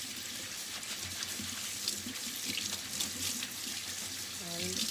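A dishcloth is rinsed under a running tap in a sink, giving a steady close splashing hiss of water that continues throughout at moderate level.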